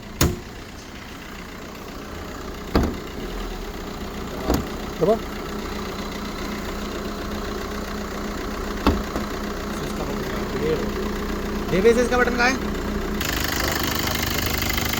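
A 2017 Maruti Brezza ZDI diesel car idles with a steady, even engine hum, broken by a few sharp clicks and knocks nearby.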